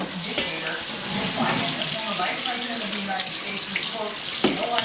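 Water runs steadily from a kitchen tap while something is rinsed under it, a continuous splashing hiss with a few clinks and shifts in the flow.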